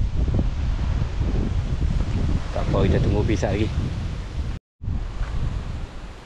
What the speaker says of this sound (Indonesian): Memang angin kuat.